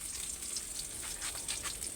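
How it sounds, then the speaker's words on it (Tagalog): Crackling, hissing sizzle of tilapia frying in hot oil, steady with small pops, no talking. "Tayo po ay nagpiprito ng isda."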